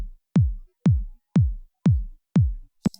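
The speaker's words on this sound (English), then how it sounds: "a 4 on the floor kick that sounds like this" Four-on-the-floor kick drum programmed in Ableton Live at 120 BPM: five deep, punchy thumps evenly spaced about half a second apart, each decaying quickly, followed by a faint short click at the end.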